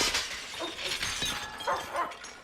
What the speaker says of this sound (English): whoever of you owns these dogs, get them out of here